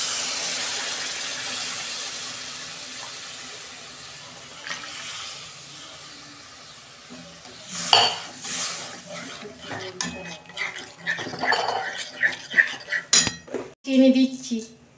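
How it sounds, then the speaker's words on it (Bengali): Coconut milk poured into a prawn masala for malai curry and stirred: a soft liquid hiss at first, then clattering spoon-on-pan scrapes and clinks in uneven bursts, close and moderately loud, with no talking. "আমার কষানো হয়ে গেছে মশলা, আমি নারকেলের দুধটা দিয়ে দিচ্ছি।"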